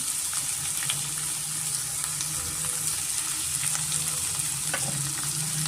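Onions frying in a pan until golden for a spicy pork curry, a steady dense sizzle throughout with occasional faint stirring ticks, close and continuous.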